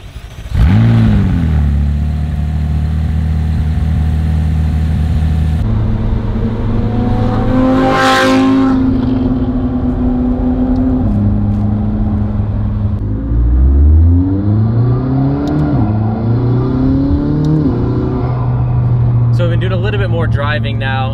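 A supercar engine revs and shifts loudly up close, intake noise prominent, the pitch climbing and dropping as the throttle opens and closes.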